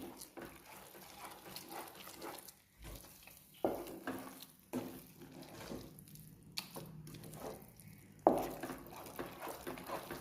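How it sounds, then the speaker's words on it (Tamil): Soft stirring and faint sizzling as bread pieces are turned in ghee in a pan for bread halwa, with scattered scrapes and a couple of sharper knocks against the pan, steady and close throughout. "அதில் பாதி நெய் இதில் ஊற்றிடணும். ஊற்றி கிண்டி விடணும்."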